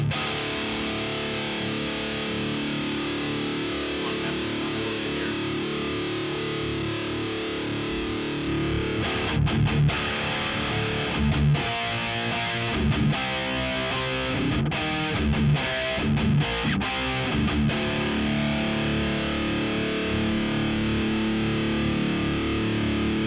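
Distorted electric guitar through an Engl Steve Morse Signature 100 amp head, running into a Two Notes Torpedo Captor 8 load box, held chords first, then choppy palm-muted chugs and stabs, loud and steady with no talking.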